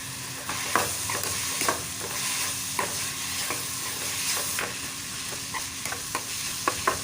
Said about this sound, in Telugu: ఎక్కువ ఫ్రై చేసుకోకూడదండి లైట్గా ఫ్రై చేసుకోవాలి వెజిటేబుల్స్ని ఫ్లైమ్ని మీడియంలో ఉంచుకోవాలి